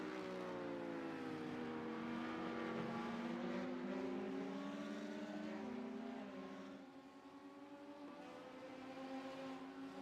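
LMP2 race cars in a racing game at Suzuka, engines droning with rising and falling pitch as they pit, a continuous mid-level whine that dips briefly before building again, no talk.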